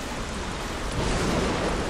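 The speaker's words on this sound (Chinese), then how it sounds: "哦，太湿了，而且一直疯狂的下雨，" Heavy rain pours in the Don't Starve: Shipwrecked survival game, a dense, loud, unbroken wash of noise that swells slightly partway through, with no voices.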